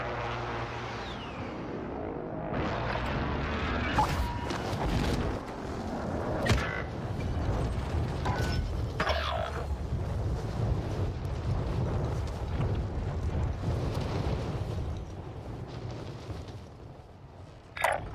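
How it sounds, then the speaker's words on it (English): Precision airstrike explosions in the game Call of Duty Warzone: a long stretch of deep, rumbling blasts and debris crashes, steady and loud with scattered sharp impacts. "Friendly precision airstrike inbound."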